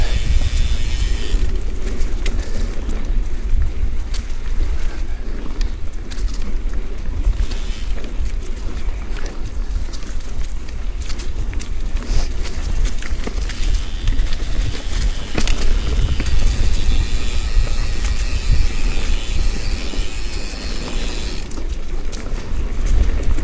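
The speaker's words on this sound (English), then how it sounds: "it's pretty dang windy" Cold wind buffets the microphone during a mountain bike ride on local leaf- and straw-covered trails, a constant rough, low roar with gusty swells and no talk.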